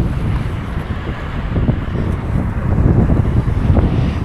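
Strong wind on the Pacific Ocean shore buffets the microphone with a loud, constant low roar that swells and eases slightly throughout.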